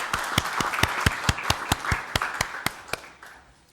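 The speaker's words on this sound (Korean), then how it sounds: "박수로 환영 주시기 바랍니다." A small group in a government meeting room claps to welcome attendees, a short burst of scattered, moderately close hand claps that thins out after a few seconds.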